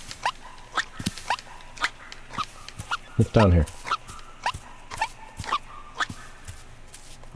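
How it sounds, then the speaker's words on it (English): A fox barks in the video game Seasons After Fall, giving short yips and one louder bark in a loose rhythm, mixed with steps and faint game sounds while someone speaks briefly over them. "barking at a mushroom does nothing"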